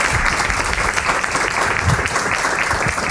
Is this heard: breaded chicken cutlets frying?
no